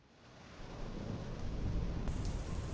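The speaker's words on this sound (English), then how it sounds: "Picture yourself seeking refuge from a storm." A thunderstorm with rain rendered as a sound effect: a low rumbling roar of thunder over steady hissing rainfall, swelling in loudness over a few seconds with no voices.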